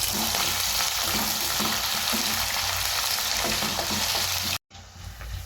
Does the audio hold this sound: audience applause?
no